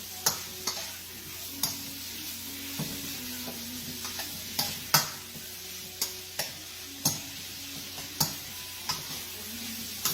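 Beef and broccoli in brown sauce are stirred in a sizzling pan: a steady fry hiss broken by regular sharp clicks of the utensil against the pan, close and fairly loud.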